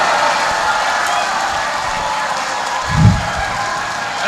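A seminar audience at a TOEFL tips session gives the speaker sustained applause, a dense and steady wash of clapping that stays loud throughout.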